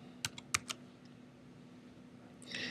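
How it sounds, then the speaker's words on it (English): A few quick keystrokes on a computer keyboard, crisp and close, clustered at the start and followed by a short faint rattle of typing near the end. "Let me just type that in."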